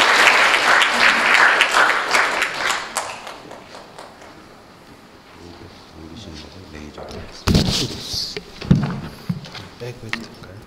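Applause from an audience at a Korean seminar on food safety technology starts loud and dense, then thins and fades, followed by scattered thumps and handling noises as someone speaks.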